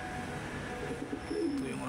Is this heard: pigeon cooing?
yes